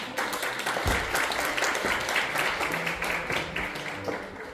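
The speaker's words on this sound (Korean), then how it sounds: "박수 부탁드립니다" An audience at an arts awards ceremony in a hotel hall applauds a traditional dancer, with individual claps standing out within a steady, moderately loud round that tapers slightly near the end.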